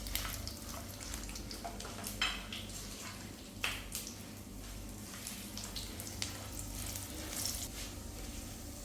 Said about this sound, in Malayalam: ഏലക്കായ, കരയാമ്പൂവ്, ബേ ലീഫ്, പിന്നെ 2 ചെറിയ വെളുത്തുള്ളി, ഇഞ്ചിയുടെ കഷ്ണം, വറ്റൽമുളക്. നമുക്ക് നന്നായിട്ട് വഴറ്റി കൊടുക്കാം.